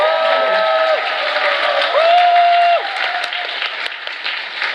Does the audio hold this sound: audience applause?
yes